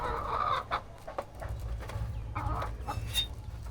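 Village hens cluck close by in soft, irregular bursts, with a few sharper fowl calls rising over a quiet rural background.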